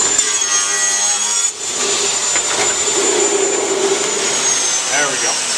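A saw trims about an eighth of an inch off the top of a wooden end panel for a storage chest, a loud, continuous close-up whine with a short dip partway through.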